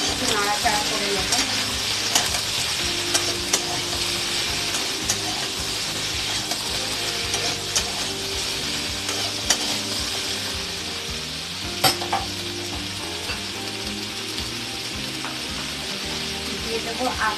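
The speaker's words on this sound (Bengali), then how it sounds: "পেঁয়াজগুলো একটু নাড়াচাড়া করে নেব।" Chopped onions sizzle loudly in a pan of hot oil while a spatula stirs them, scraping with repeated sharp clicks and knocks over a constant frying hiss.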